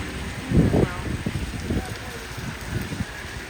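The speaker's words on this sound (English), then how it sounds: "It's pouring now. Really pouring." Heavy pouring rain on a March day in the Portuguese town of Cantanhede makes a dense, steady hiss, with someone speaking over it close to the microphone.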